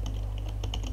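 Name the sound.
typing on computer keyboard, pressing enter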